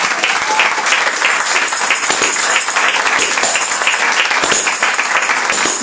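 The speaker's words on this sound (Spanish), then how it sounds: "Den un aplauso a Cristo" A church congregation applauds at a sermon on the life of Jesus, steady dense clapping from many hands that fills the space evenly and stays loud throughout.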